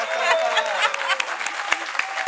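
A conference audience at the AMFIS 2023 gathering claps in scattered, uneven applause with individual sharp claps standing out, while a voice talks over it.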